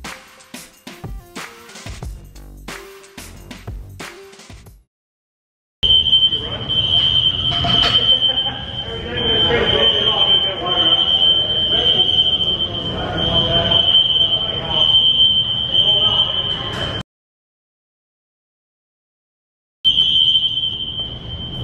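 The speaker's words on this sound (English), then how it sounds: "Got a little fire alarms, right?" Fire alarms go off indoors, a loud, piercing steady tone that holds for about eleven seconds, cuts out, then starts again, with noisy rumble beneath it.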